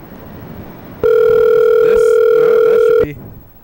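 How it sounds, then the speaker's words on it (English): A telephone ringing tone from a test call sounds as one loud, steady electronic tone lasting about two seconds, then cuts off, with no voices. "we're going to do a test call to you"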